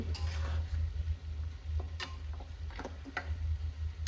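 Beef trotter nihari is stir-fried with spices in a pot, a low simmering sizzle under irregular clicks and scrapes of a spoon against the metal, close by and with no speech.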